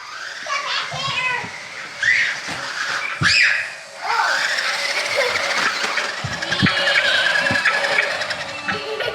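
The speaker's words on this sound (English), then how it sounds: "Driving my new remote control car." A remote control toy car drives around outdoors, its small motor whining and shifting in pitch while children play and talk nearby throughout.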